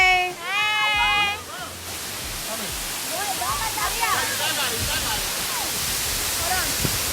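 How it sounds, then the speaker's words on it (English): A waterfall on a hiking trail roars steadily and loudly, a dense constant rush that swells in after a couple of seconds, with people talking over it. "This is the waterfall, and now we're going down."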